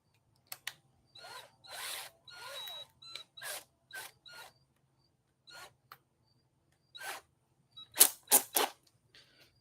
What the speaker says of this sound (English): this hack suggests take a screw and put it in backwards